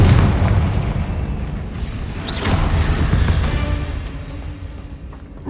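A heavy, booming blast from the Confringo fire spell in Hogwarts Legacy, a loud explosion that rolls on for several seconds and is followed by rumbling bursts and crackling debris fading toward the end.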